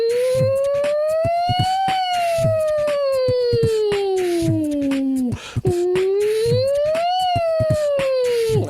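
Voices imitate a siren together, sliding up and down in long wailing sweeps, with a brief break in the middle before another rise and fall.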